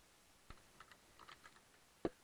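Quiet keystrokes on a computer keyboard, a handful of soft scattered clicks with one sharper tap near the end, close and faint in a hushed room.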